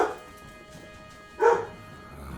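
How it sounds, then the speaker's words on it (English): An angry dog barks in Final Fantasy XI, two loud, close barks, one at the start and another about a second and a half later, over a faint, steady game background. "The dog's angry."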